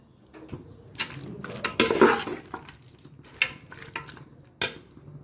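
Irregular scraping and clattering of a spoon stirring mutton in a pan for mutton kuzhambu, with a soft frying hiss underneath and a few sharp metallic knocks.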